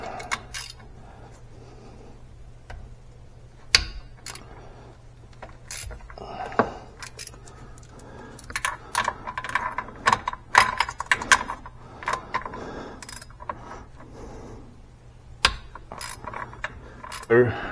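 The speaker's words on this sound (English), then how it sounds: "Now I'm just removing them because they're not the easiest to get to" A ratchet loosens two small number 8 bolts from a UTV starter, producing clusters of close, light metallic clicks and tool rattles over a steady low hum.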